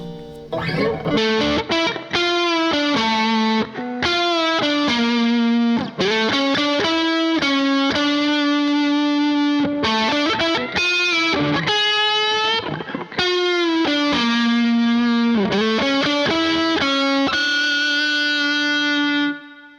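Distorted electric guitar, a Harley Benton ST-Modern HH, plays a melodic line of sustained notes and quick runs, loud and continuous with brief pauses between phrases.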